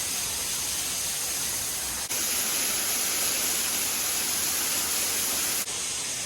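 Waterfall roaring as a dense, continuous wash of broadband rushing water, loud and close, steady throughout with no voices.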